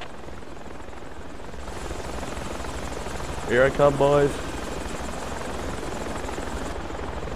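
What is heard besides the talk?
helicopter in the video game Project Reality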